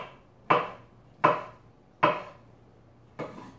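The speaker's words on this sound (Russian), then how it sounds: "Нарезаю вот такую вот предварительную соломку." Four distinct knife chops strike a cutting board at a steady pace as beetroot is cut into strips for vinegret salad, each a sharp close thud.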